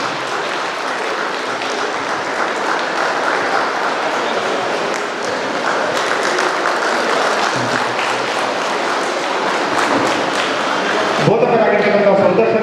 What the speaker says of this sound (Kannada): ಚಪ್ಪಾಳೆಯ ಮೂಲಕ ಎಲ್ಲರೂ ಇವರನ್ನ ಪ್ರೋತ್ಸಾಹಿಸಬೇಕೆಂದು ತಿಳ್ಕೊಳ್ತೇವೆ.